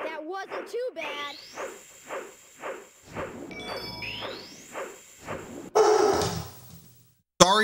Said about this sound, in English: Sorry for that dog bark, by the way.